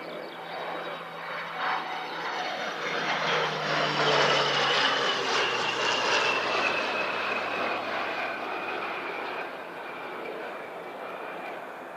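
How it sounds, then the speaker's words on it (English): Airways propeller survey plane flying past Christchurch Airport with wheels up, a droning engine hum that swells to a peak midway and then fades as it passes. "here comes Airways again, wheels still up, so still doing more surveys"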